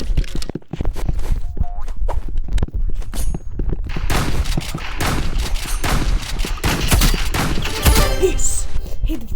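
Gunfire in a shooting video game, dense bursts of rapid shots and crackling fire with busy in-game clatter, loud and close throughout.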